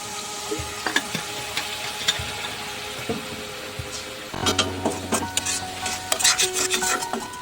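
A pot of chicken biryani with biryani masala powder being stirred, with scraping and clinking of the spoon against the pot over a steady sizzle, louder and busier in the second half.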